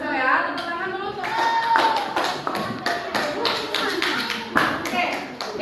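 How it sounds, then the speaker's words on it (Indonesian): Children in a classroom clap their hands together: a run of brisk, uneven claps and taps, close and loud, with children's voices chattering through it. "Tepuk tangan dulu tuh."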